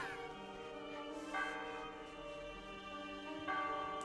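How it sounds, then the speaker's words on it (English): Church bells in the video game The Last Door ring in a sustained, resonant tone with overlapping harmonics, a fresh strike swelling in twice over a steady hum. "bells of the church. It seems the priest is calling mass."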